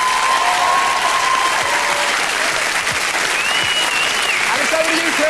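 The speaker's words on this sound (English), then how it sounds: "Let's give them a big round of applause" New Year television show audience applauding the volunteers, loud continuous wash of clapping and crowd noise with a few voices and whistles mixed in.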